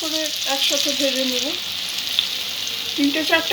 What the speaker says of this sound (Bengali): দুটো সাইড ভালো করে ভেজে নেব